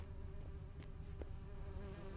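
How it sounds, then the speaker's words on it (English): Bees from The Witcher 3 drone with a low, steady hum, a soft, continuous insect buzz with a couple of brief swells, and no voices. "Let's chase these bees away."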